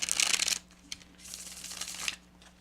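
Tarot cards being shuffled and drawn, a dense riffling burst up front, a brief snap, then a longer stretch of sliding, rustling card handling that ends in a crisp flick, close and clear with no talking.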